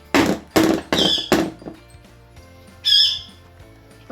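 A cake tin holding banana cake batter is tapped against a surface to settle it, giving four quick, close knocks in a row, then a pause and one more knock with a brief squeaky overtone.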